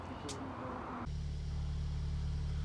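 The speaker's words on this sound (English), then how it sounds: "I'm going to turn the car on and wait for the gearbox to get to 35 to 45 degrees" A VW Golf R engine idles with its DSG gearbox warming up, the sound shifting partway through into a steady low drone with a clear tonal hum, close and constant.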